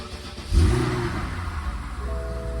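A 2008 BMW 550i with a 4.8-liter V8 and automatic transmission, which has a no-start fault, cranks and catches, then settles into a steady, fairly close, low idle rumble with no talk over it.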